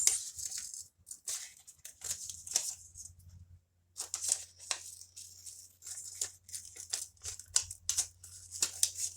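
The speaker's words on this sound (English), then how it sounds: "we will cut all of the shapes" Paper shapes are snipped out with scissors, a close, steady run of crisp cutting snips and rustles with one brief gap partway through.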